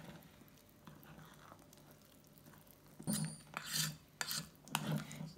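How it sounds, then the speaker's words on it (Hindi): Dhokla batter ingredients being stirred in a bowl, giving soft scraping and rubbing strokes that come and go in several quiet bursts, growing more distinct toward the end. "तो ये सारे इंग्रेडिएंट्स हमने अच्छे से मिक्स कर देना है"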